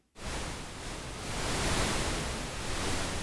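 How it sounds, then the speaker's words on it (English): Steady broadband noise from a Zebra synthesizer, like rushing surf or static, starting abruptly and holding loud and even, swelling slightly midway. "We can make a lot of good ocean and noise sounds with this synthesizer."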